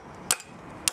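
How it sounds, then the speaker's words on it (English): A hammer taps a spanner fitted on a nut of a Jaguar E-Type rear suspension, two sharp metallic strikes about half a second apart, close and crisp with quiet between. "I can use the hammer and tap it down to break the seal on the nut."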